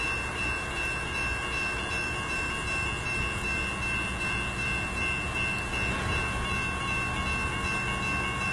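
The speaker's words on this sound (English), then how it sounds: "Here comes CN train. CN northbound CN train." A CN northbound freight train with one engine hauling double-stack cars rolls past a crossing in Richmond, Michigan, giving a loud, continuous rumble and rail roar with steady metallic tones throughout, no talk.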